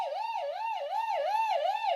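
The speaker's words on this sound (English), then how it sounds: "Let's sound the siren." A wailing siren sweeps up and down in steady cycles, close and loud for the whole stretch with no talk over it.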